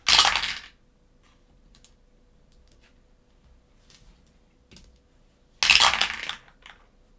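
Dice rolling during a solo tabletop session of the board game Set A Watch: two clattering bursts of dice spilling and settling, one at the start and one near the end, with quiet gaps between and no talk.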